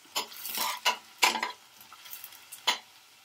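Onions and green chilies frying in hot oil for a ridge gourd curry; several short bursts of sizzling and spatula stirring come in quick strokes, close and moderately loud, separated by quieter gaps.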